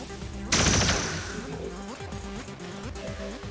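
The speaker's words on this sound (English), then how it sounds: "I don't think you fired that disruptor rifle enough times, Griff." A disruptor rifle in XCOM 2 lets out a single loud, bright energy blast that decays into a ringing tail, followed by quieter rhythmic mechanical ticking and background tones.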